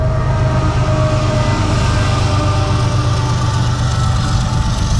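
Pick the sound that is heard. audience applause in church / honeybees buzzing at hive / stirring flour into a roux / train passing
train passing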